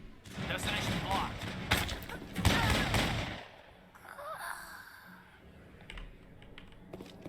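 Gunfire in Mass Effect, a 2007 sci-fi shooter, heard as a burst of sharp rapid shots up front, then quieter scattered pops with a player talking over parts of it.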